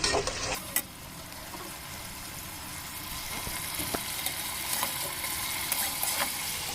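Masala paste with coriander leaves, destined for a prawn and egg pulao, sautés and is stirred in a pan, giving a steady close sizzle broken by a few sharper scrapes, with no talking.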